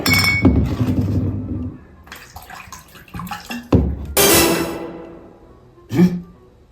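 Glasses clink and liquid is poured as a drink is mixed in a home comedy scene, with sharp clinks and splashes in bursts over several seconds, close and fairly loud.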